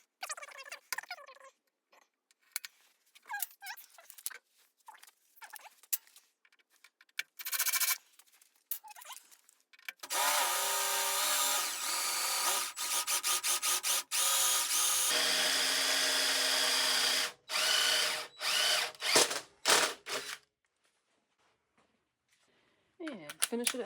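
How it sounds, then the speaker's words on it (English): A power drill driving bolts to fasten a small lathe to a shop table, in short bursts at first and then long sustained whirring runs, close and loud, with occasional talking between. "got to get the lathe bolted down where it kind of goes."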